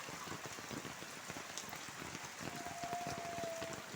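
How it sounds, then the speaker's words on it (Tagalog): Steady rain falls on a rainy morning, a dense, even patter of drops close by with no voices over it. "maulan na umaga sa inyong lahat."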